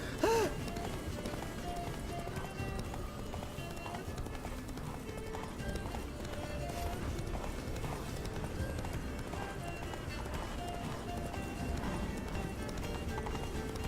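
Roach, Geralt's horse in The Witcher 3, gallops with steady rhythmic hoofbeats under a busy game soundtrack and ambient noise, continuous throughout with a brief louder burst at the start.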